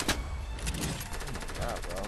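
Enemy gunfire in Fortnite striking a built wall: a rapid string of sharp shots crackling in quick succession, fairly close and moderately loud, with a sharp burst at the start and a voice talking faintly underneath.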